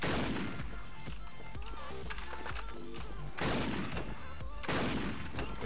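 Sniper rifle shots in a video game ring out as repeated heavy booming blasts at irregular intervals, layered over dense game effects and background music.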